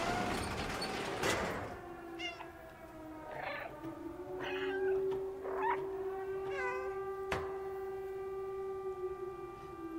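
A cat meows several times in the video game Stray, clear calls set over a steady electronic hum and tones, with no talking.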